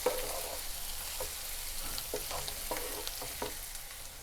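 A spiced potato mixture with salt, turmeric and garam masala, made for a methi potato dish, is stirred in a sizzling pan. Soft scrapes and clicks repeat irregularly over a steady frying hiss, with no talking.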